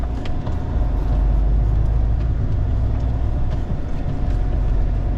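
A car drives along a road in Kryvyi Rih on a hot day, with a steady, loud low engine and road rumble running throughout, nearby and continuous, without speech.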